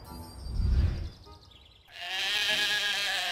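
Sheep bleating in the Otherworld game, a single wavering close bleat following a low rumbling thud, set against a faint steady background tone.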